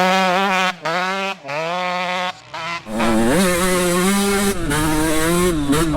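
125cc two-stroke dirt bike, almost 25 years old, revving hard while ridden, its high buzzing exhaust rising and falling through gear changes with brief throttle-off gaps, loud and close.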